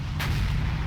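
A tank cannon fires in World of Tanks, played as the EBR light vehicle: one sharp, heavy boom over a constant low engine rumble, loud and close, with no talk.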